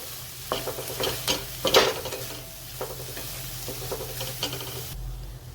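Tomatoes, coriander and spices sautéing in a pan, with a steady sizzle and the repeated scrape of stirring running through the whole stretch, including a few louder strokes, before it suddenly drops to a quieter hiss near the end.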